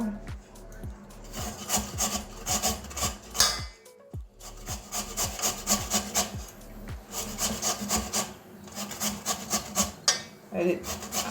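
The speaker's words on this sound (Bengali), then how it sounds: "এই যে একটা গ্রেটার নিয়েছি এটার মধ্যে আলুটাকে ঘষে নেব" A raw potato is rubbed back and forth on a kitchen grater for aloo kofta, giving a close, loud run of rhythmic rasping scrapes with one short pause partway through.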